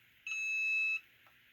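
The timer on a Cricut heat press gives a single steady electronic beep lasting under a second, clear and close against a quiet room, followed by a faint click.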